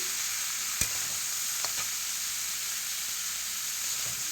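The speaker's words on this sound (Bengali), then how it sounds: "ভালোভাবে মিক্স করে নিচ্ছি সবজিটাকে" Ash gourd with a hilsa fish head and spices is stirred in a hot pan: a continuous close sizzle and hiss, with a few sharp scrapes of the spoon against the pan.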